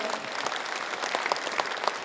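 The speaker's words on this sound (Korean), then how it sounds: "여러분 다시 한번 따뜻한 박수 보내주시면 감사하겠습니다" A forum audience gives warm applause, a steady patter of many hands clapping at moderate loudness, with a few sharper claps standing out.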